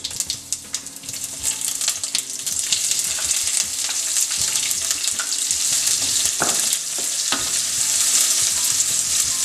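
Onion and mustard seeds fry in hot oil in a pan with a loud, steady sizzle and crackle, joined by occasional stirring clanks and scrapes throughout.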